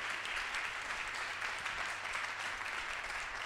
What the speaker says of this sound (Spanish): Un aplauso a la quinta edición de este Curvy Fashion Model 2021.